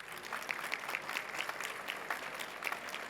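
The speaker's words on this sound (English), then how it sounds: "Ladies and gentlemen, please give them a big round of applause." An audience applauds after a session on artificial intelligence in personalized health and precision care, a steady patter of many hands with distinct individual claps standing out, moderately quiet and unbroken by talk.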